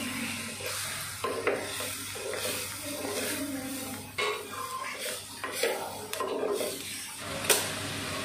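Cabbage and green beans cook in a pan for a Kerala-style thoran, with steady stirring scrapes and soft sizzling, a few louder clinks of a spoon against the pan, and low kitchen hum underneath.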